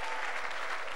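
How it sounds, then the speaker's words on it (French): Church congregation clapping and cheering in celebration during a service, a brief, dense roar of applause with crowd noise blended in, steady and fairly loud for one second. "Joignez-vous à moi pour célébrer notre maman avec des cris de joie, des acclamations."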